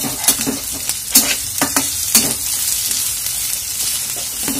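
Onions frying in a pan over a high gas flame, a steady close sizzle punctuated by several sharp stirring scrapes and clinks of a spoon against the pan.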